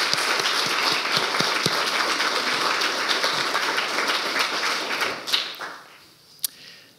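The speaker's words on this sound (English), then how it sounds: "can we give her a round of applause?" An audience at a youth council election results event applauds an elected member, dense clapping holding steady for about five seconds before thinning out into a few last claps.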